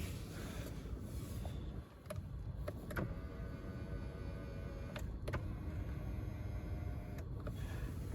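Inside a 2010 Lexus RX 450h, a power seat motor whirs in a low steady hum, broken by several sharp clicks as adjustments start and stop, close up with no talking.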